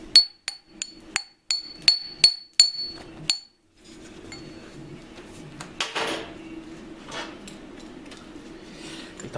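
Slag being chipped off freshly plasma-cut steel with a hammer, about eight sharp ringing metallic taps in a quick series at close range, then quieter scraping and clattering.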